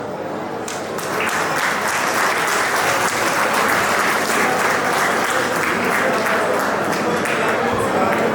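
Wedding guests break into sustained applause, steady dense clapping from many hands filling the room after a brief quieter start, continuing without a break.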